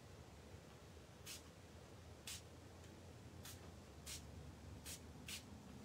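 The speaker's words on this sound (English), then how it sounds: "So get my mister and spritz this." A handheld water mister spritzes vellum coloured with alcohol markers in six short, separate hissing bursts at irregular intervals, close and fairly quiet against a soft background hiss.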